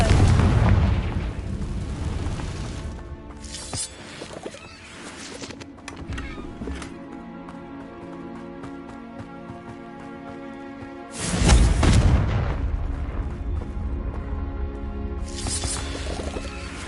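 Confringo blasting spells fire off in Hogwarts Legacy, a video game: loud booming bursts open and close the stretch, a heavy blast near the start and another around the middle, with a rumbling, ringing tail between them.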